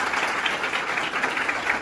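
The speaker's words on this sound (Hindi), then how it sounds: "जोरदार तालियां पहले तो।" An audience gives a burst of steady applause, a dense wash of many hands clapping together at a moderate level throughout.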